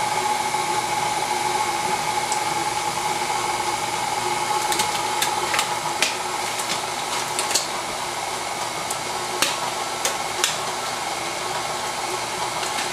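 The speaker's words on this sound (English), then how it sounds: "you notice I turned down the mixer because I don't want to I want to cream it" Electric mixer creaming cake batter with butter and raw eggs for a pumpkin chocolate chip cake, a steady loud whirring drone throughout with a few faint clicks and knocks near the end.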